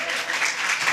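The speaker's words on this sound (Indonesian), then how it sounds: "Boleh tepuk tangan dulu." Audience applause at an Indonesian youth health and anemia dialogue event, a brief dense patter of clapping from a crowd, moderately loud and continuous.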